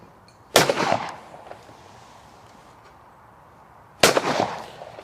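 Two loud, sharp shotgun blasts from a 120-year-old hammer gun, fired outdoors several seconds apart, each with a short decaying echo.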